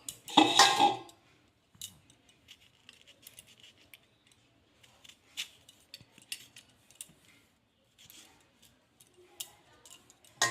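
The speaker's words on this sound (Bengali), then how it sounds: "এইভাবে সব টমেটোগুলো কেটে নেব।" Ripe red tomatoes being halved with a knife on a board, tough parts trimmed away, heard as a loud clatter at the start and then scattered soft ticking cuts, quiet and close, with no one talking.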